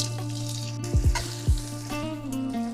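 Chopped onion hits hot oil in a pan and sizzles loudly, with several sharp bursts of crackling as pieces drop in, settling into a steady close frying hiss.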